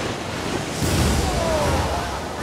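A tidal bore on the Qiantang River surges upstream as a steady, roaring wash of broadband water noise, swelling slightly louder midway and sustained throughout with wind-like rush and no voices.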